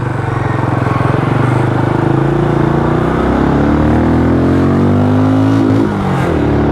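A Benelli Imperiale 400 motorcycle engine revs hard and steadily toward its limiter at around 5,500 rpm, a loud, continuous close-up roar whose pitch climbs and wavers, with no talking.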